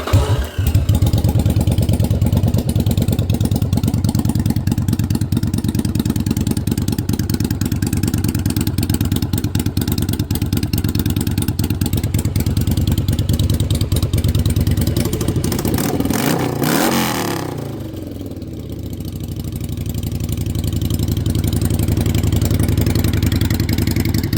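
A Yamaha Virago bobber motorcycle, already warm, fires up and runs steadily with a loud, close, continuous engine rumble, dipping briefly around a throttle change before settling back to a strong idle.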